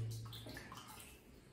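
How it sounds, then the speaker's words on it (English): Water splashes and swirls briefly as a shaving brush is dipped into a basin, a soft, close, wet sloshing sound with no talk. "I'm just going to dip this in the water again"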